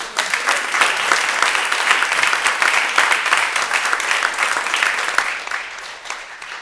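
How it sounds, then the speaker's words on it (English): A conference audience claps in a steady round of applause, individual hand claps clearly audible, holding throughout and easing slightly near the end. "I think we should actually give her a round of applause"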